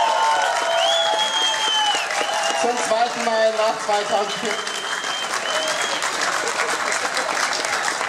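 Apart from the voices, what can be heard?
crowd applause for Horst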